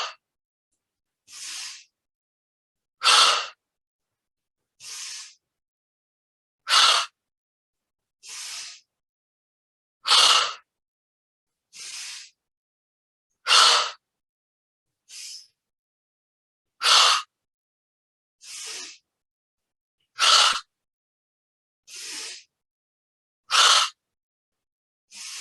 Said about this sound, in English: Inhale up, exhale down.